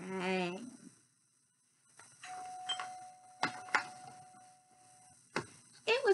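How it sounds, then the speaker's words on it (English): A doorbell chimes a few times in a quiet room, with brief voices heard before and after the ringing. "as the doorbell rang"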